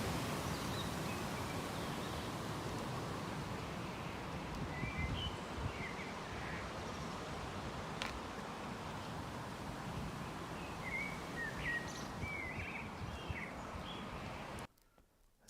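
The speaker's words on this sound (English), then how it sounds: "So you've got some nice sounds of birds" Outdoor birdsong, scattered chirps and short calls at moderate distance over a steady wash of wind and rustling leaves, faint throughout, cutting off abruptly near the end.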